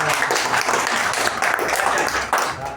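Guests applaud at a reunion of classmates who finished school in 1983, held alongside a friend's birthday celebration. The clapping is loud, busy and continuous, close by, and fills the whole moment.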